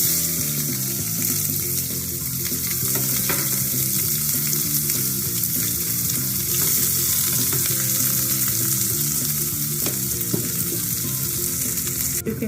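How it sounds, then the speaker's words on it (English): Chopped onions fry until brown for mutton biryani, a loud continuous sizzle with intermittent stirring and scraping in the pan, close up and without talk. "Take cut onions and fry them till brown."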